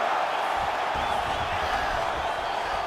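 Steady crowd roar and cheering from a UFC 5 video game arena as fighters rise from a long grappling exchange, a dense continuous wash of sound with no distinct voices.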